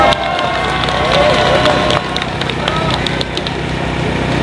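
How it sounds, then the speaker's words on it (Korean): A crowd at an outdoor political rally in Gwanghwamun, Seoul, claps and cheers steadily, with dense scattered handclaps over a loud amplified voice and general crowd noise. "박수 한번 크게 부탁드리겠습니다."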